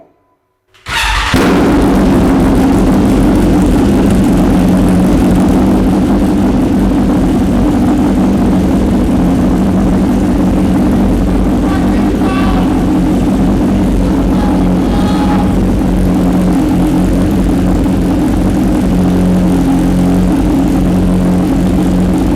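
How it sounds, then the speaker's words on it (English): BMW S1000R motorcycle with a decat pipe fires up from silence on a cold start, then holds a loud, close, steady high idle with a raspy, droning exhaust note that lasts about twenty seconds. "Now it's time for a freaking cold start."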